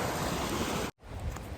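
A small snowmelt creek on the Pacific Crest Trail in the Sierra Nevada rushes in a steady, loud broadband wash with no talk, cut by a brief dropout near the middle before the flow resumes.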